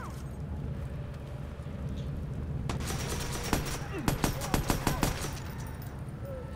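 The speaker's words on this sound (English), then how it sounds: "they're shooting the fuck out of me" Gunfire in the video game Watch Dogs: a dense run of sharp shots bursts out partway through and keeps going in rapid, uneven volleys over a steady low rumble of game ambience.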